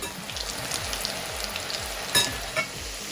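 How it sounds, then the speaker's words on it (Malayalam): Chickpeas deep-fry in hot oil, a continuous close sizzle and bubbling crackle with a rhythmic scraping stir and a couple of sharper pops. "ഓയിൽ നന്നായിട്ട് ബോയിൽ ആയതിനു ശേഷം വേണം നമുക്ക് കടല ഇട്ടൊന്ന് വറുത്ത് കോരി എടുക്കാനായിട്ട്"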